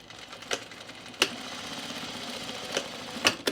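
A sewing machine runs in a steady close hum while stitching the edge of a cocoon project bag, with a few sharp clicks and knocks at the start and end of the run.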